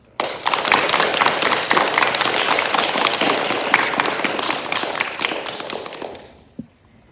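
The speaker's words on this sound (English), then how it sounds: "give them a clap" A school leavers' assembly audience gives house captains a round of clapping, dense and lively from the start for about six seconds before tapering off to silence, with one late stray clap.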